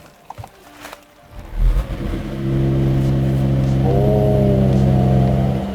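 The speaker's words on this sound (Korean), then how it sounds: "배기음 좀 들어보겠습니다" Exhaust note of a Mercedes-AMG CLS 53 at idle, starting with faint clicks, then the engine catching and settling into a loud, steady drone close by, with no talk over it.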